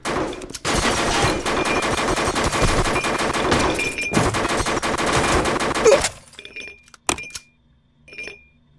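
Rapid automatic gunfire rattles loudly and almost without pause for about six seconds in the VR shooter Mercenaries VR, then stops, leaving a few sharp metallic clinks and short bursts against near silence.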